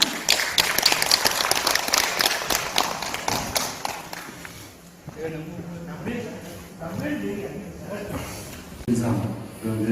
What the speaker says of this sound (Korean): 박수로 맞이해 주시길 바랍니다.